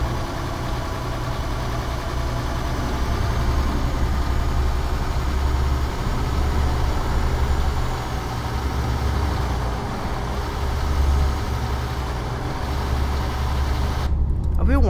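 Steady, loud engine drone of a Toyota Innova seven-seat taxi in Euro Truck Simulator 2, a continuous low rumble throughout with someone talking over it.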